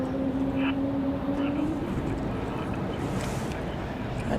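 A Delta Airbus A220 jet approaching Raleigh-Durham International Airport gives a loud, steady broadband roar with a faint rising whine, heard outdoors amid wind, with a voice faintly present.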